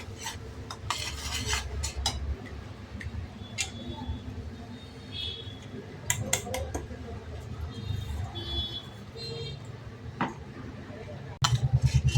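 Coarsely ground moong dal roasting in a pan over low heat while being stirred constantly, giving repeated light metallic scrapes and clinks of a spoon against the pan, with a soft sizzle and a louder clatter at the end.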